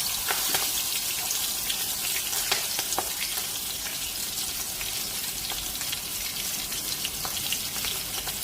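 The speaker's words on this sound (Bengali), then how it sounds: "লঙ্কাটা ভাজা হয়ে গেলে এতে আমি দিয়ে দেব সর্ষে বাটা" Chillies fry in hot oil as mustard paste goes in, in a Bengali fish preparation, producing a steady, loud, dense sizzle with scattered crackles and pops throughout, close and without talk.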